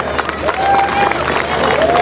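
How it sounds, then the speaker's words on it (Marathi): A crowd at a Dussehra Ravan-burning event in Pune claps and cheers in a steady, moderately loud wash of applause, with crowd noise and a faint whistle-like tone under it. "आपण सगळ्यांनी एकदा नरेंद्र मोदीजींसाठी टाळ्या वाजवायच्या आहेत"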